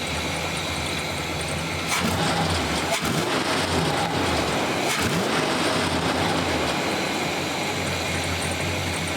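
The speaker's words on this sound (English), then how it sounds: "other than the alternator sounding like it's being run by gerbils, not too bad." A 1986 Chevy C30 truck engine idles steadily with a whining, rattly alternator, a continuous close mechanical drone holding an even level throughout with a few faint knocks.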